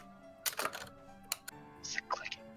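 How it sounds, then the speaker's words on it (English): Someone types on a loud computer keyboard: several quick bursts of crisp clicks with short pauses between them, fairly close but at low overall volume. "the keyboard I'm using is a little loud"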